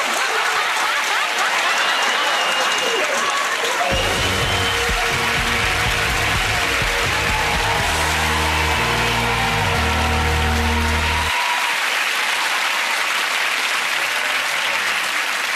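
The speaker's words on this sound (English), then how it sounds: "Give us a clap." Studio audience at the Friday Night Project, a British TV comedy show, bursting into loud, sustained applause and cheering that swells mid-clip under a brassy music sting, then settles back to steady clapping.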